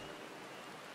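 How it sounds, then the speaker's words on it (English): Rain falls in the video game Final Fantasy XIV, a soft, steady hiss of rainfall, quiet and continuous, with no speech over it. "It's raining."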